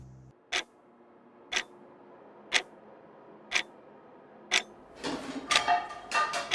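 Clock hands ticking in a quiet room beside a hot stove, five sharp, evenly spaced ticks about a second apart, close and loud, before a busier clattering sound takes over at the end.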